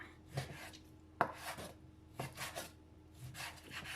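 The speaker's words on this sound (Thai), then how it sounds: "เดี๋ยวเรามาหั่นไก่เป็นชิ้นน้อยๆบางๆกันเนาะค่ะ" Knife strokes slicing chicken into thin pieces on a board, a few sharp chopping taps with softer slicing rubs between them, close and moderately quiet.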